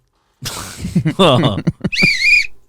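A person talks briefly, then a short, high, piercing whistle tone sounds close up for about half a second.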